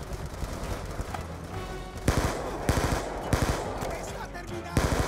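Automatic gunfire in the video game Call of Duty Black Ops 2, with sharp bursts of machine-gun shots cracking out in rapid clusters over a steady background of game noise.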